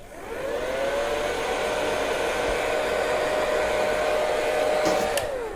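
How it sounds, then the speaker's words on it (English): A hair dryer heating plastic blows steadily and loudly for several seconds, a constant whooshing drone that winds down slightly at the end. "So this is a hairdryer. We're going to use it to heat up the plastic"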